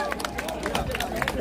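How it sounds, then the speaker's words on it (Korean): An audience at a Korean trot concert claps in a busy, fairly loud patter, with crowd voices and chatter mixed in. "박수 많이 쳐주세요."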